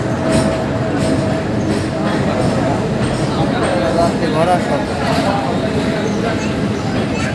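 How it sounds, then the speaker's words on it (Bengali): Train arriving at a crowded station platform in Pangsha, Bangladesh: a loud, continuous rumble with faint rail clatter, under a steady buzz of people talking nearby. "এখনই চলে এসছে প্ল্যাটফর্মে যে ট্রেন আসছে সবাই অপেক্ষা করছে ট্রেন চলে এসছে"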